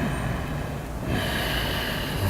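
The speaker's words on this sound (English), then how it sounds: "Ujjayi breath sounds like Darth Vader" Ujjayi yoga breathing done with the mouth closed, a steady, raspy throat-constricted breath in the manner of Darth Vader, heard close and continuous for a couple of seconds with no talk.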